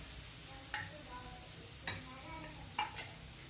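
Cabbage manchurian with spices frying in a pan, giving a faint steady sizzle broken by a few sharp scrapes and taps of stirring.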